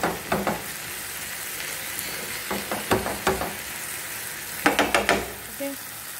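Masala and tomatoes fry with mutton in a pot, a steady sizzle broken by repeated scraping stirs and spoon knocks in short clusters.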